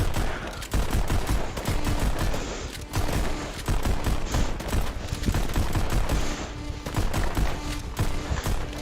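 Rapid, dense gunfire from the VR rhythm shooter Pistol Whip, loud and almost continuous, with quick shot after shot layered over a driving beat-like pulse.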